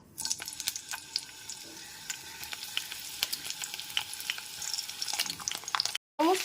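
Cut pointed gourd sizzles in hot mustard oil, a dense, crackling fry with scattered sharp pops and occasional stirring scrapes running steadily throughout, broken by a brief silent gap near the end.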